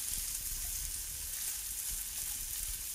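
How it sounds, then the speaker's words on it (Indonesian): Sliced fresh button mushrooms sauté in a hot pan for a homemade chicken mushroom pizza topping, giving a steady, close sizzle that runs evenly throughout with no voices. "Tumis selama kurang lebih 2 menit."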